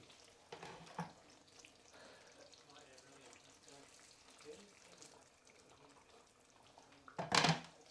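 Water is poured into a pan of oxtail curry simmering over low gas, giving a soft sizzling bubble with a louder splashing rush near the end, and someone talks quietly throughout.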